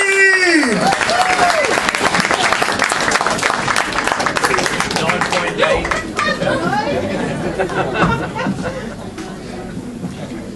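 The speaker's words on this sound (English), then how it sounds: "Can we have a big round of applause for Ms. Rihanati!" Crowd applause and cheering with shouts at a poetry slam, fading gradually as chatter continues across the room.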